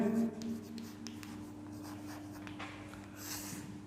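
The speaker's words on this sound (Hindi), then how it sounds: "ये सूत्र लिखेंगे" Marker or chalk writing a quadratic formula on a classroom board during an algebra lesson, giving soft, close scratchy strokes over a steady low hum, with no talking.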